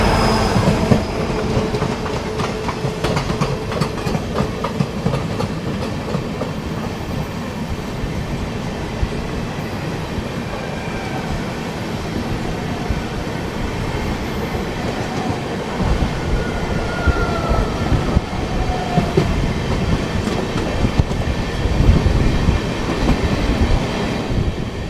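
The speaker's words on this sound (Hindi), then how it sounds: "बगल से ये आ रही है अपनी सिलचर रंगिया एक्सप्रेस" The Silchar Rangiya Express with a diesel locomotive rumbles past close by, a loud continuous roar of wheels and carriages with rhythmic clatter and a faint squeal, and no voices.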